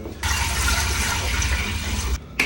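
Powerade from two bottles poured at once into a pot, a steady gushing splash of liquid lasting about two seconds, close and fairly loud, ending with a brief extra splash.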